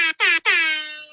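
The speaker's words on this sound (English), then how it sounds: "only I can do the air horn" A loud air horn blasts three times in quick succession, two short honks followed by a longer one that fades out.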